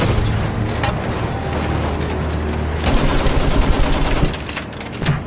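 Dense, loud battlefield gunfire from the World War I shooter Battlefield 1, with rapid machine-gun bursts and sharp rifle cracks. Booming impacts pile up in heavy, continuous layers, and no voices are heard.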